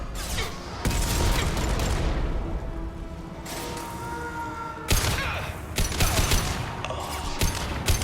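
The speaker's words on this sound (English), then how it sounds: "Firing concussive shots!" Concussive shots firing in the Mass Effect Legendary Edition video game: heavy booming blasts and rumbling impacts, loud and close, with a few sharp bursts near the start, midway and toward the end.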